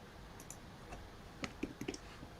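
A computer mouse clicks on an image, with a few faint, quick ticks spaced irregularly and then a tighter cluster of clicks close by in a quiet room.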